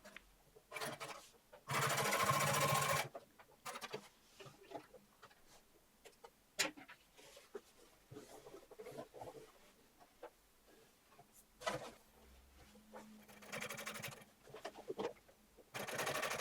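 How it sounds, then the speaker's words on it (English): A domestic sewing machine stitches through very thick denim jeans, setting off one loud steady run of whirring near the start and then sparse, fainter mechanical ticks and clicks as the fabric is handled. "It's not ideal to use a domestic sewing machine on this very thick denim."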